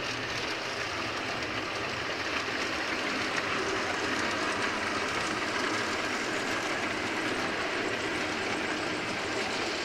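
GG1 and F7 model railroad locomotives run on a layout, giving a steady, even wash of motor hum and wheel rumble that holds without break for the whole span, with no talking.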